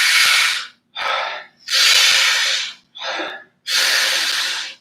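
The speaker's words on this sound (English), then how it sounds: "we just take the shallowest, most stressful looking breath you can imagine" A person demonstrates shallow, stressful breathing high into the top of the ribs, with three loud, sharp, hissy inhales close to the microphone separated by shorter, softer breaths and brief silent gaps.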